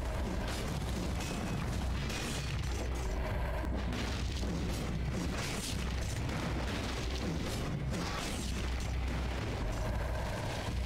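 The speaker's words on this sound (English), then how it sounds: "Just iframe through those grenades. Quote unquote grenades!" Dense, continuous booming and rumbling blasts from grenades going off in the video game Dead Cells, loud and layered throughout with crackling noise on top.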